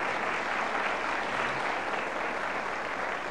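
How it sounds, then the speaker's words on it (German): Steady studio audience applause on a German game show, a continuous, even wash of clapping for a few seconds with no voices over it. "Dankeschön und ein Applaus für unsere Verlierer"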